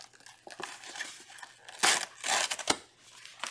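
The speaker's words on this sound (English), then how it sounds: "So I'm going to rip this out." A drawn paper shape is ripped out of a sheet, giving crinkling and tearing bursts that come louder in the second half, with quiet handling rustles before them.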